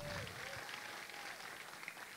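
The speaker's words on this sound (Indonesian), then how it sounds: "Luar biasa, tepuk tangan buat Velo." Audience applause at a stand-up comedy show in a CGV cinema venue, a steady wash of clapping lasting a couple of seconds, fairly faint and distant, with a voice briefly over the start.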